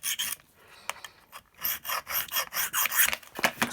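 A file rasping a burr off a blade edge in short, repeated strokes, loud and close, with a brief pause before a quicker run of scraping passes.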